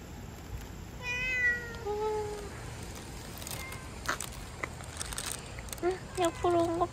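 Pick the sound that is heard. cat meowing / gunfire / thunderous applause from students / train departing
cat meowing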